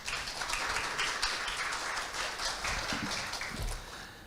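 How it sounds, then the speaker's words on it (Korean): An audience at a Korean financial-sector policy debate gives steady, moderately distant applause, a dense wash of many hands clapping that holds for several seconds. "강효 박사님을 박수로 맞아주시기 바랍니다."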